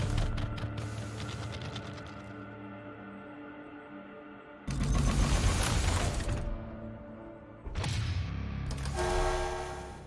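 Game sounds of a train in a post-apocalyptic city builder, with mechanical rumbling and clanking that drops in and out in loud bursts, including a sudden crash-like surge midway and another near the end.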